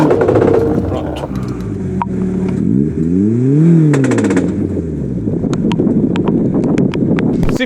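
A Suzuki Jimny's worn transfer case chain skipping under acceleration, heard as a loud rapid mechanical clatter over a rising and falling engine drone, close and continuous.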